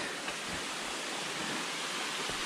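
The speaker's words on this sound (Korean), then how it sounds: "드디어 계곡물을 만났습니다. 시원한 물이 내려오네요." Cool mountain stream water rushes down a steep valley in Deogyusan's Gucheondong area, a steady, close, full hiss of flowing water without pause or voices.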